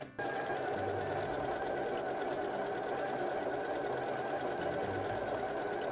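A household sewing machine stitching an overlock seam, a continuous close mechanical whir with rapid needle ticking that starts abruptly and runs evenly throughout, with no talk.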